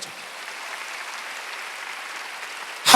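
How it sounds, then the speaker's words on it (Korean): A church congregation at a Sunday worship service applauds softly and steadily, heard from a distance, then a louder burst of noise comes in right at the end. "박수 하나 더 했어요."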